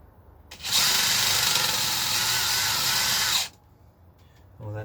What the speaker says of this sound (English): so I'm going to use this drill